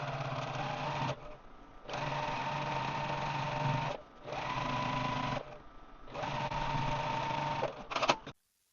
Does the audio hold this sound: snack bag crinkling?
no